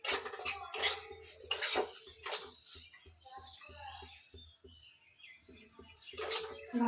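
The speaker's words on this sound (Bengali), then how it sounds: "ভালো করে নেড়ে নিচ্ছি।" Semolina is stirred in a hot wok with mustard oil and bay leaf, making repeated scraping and clinking of a utensil against the pan in uneven bursts, close and fairly loud, with faint chirps in the background.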